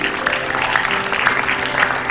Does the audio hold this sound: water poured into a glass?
no